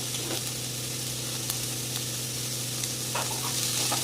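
Cabbage, capsicum and spring onion stir-fry for Hakka noodles, giving a continuous bright sizzle with scattered taps and scrapes of stirring in the pan and a low steady hum underneath.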